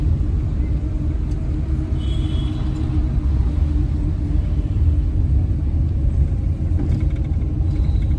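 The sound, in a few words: car engine accelerating during a driving lesson in India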